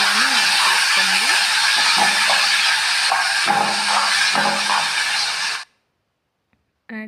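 Chopped tomatoes hit hot oil seasoned with mustard seeds and curry leaves for a spicy tomato curry, a loud close hiss of sizzling for about five seconds, then sudden silence.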